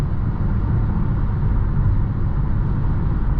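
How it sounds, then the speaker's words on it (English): Constant low rumbling road noise from inside a 2023 Dodge Challenger SXT moving on a highway, a steady dense drone with no voices. "You got a bit of louder road noise on the highway"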